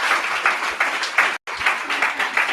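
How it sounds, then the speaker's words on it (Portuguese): A church congregation gives a steady burst of applause, close and dense, with a brief cut in the middle before the clapping carries on. "Dê um aplauso a Jesus Cristo."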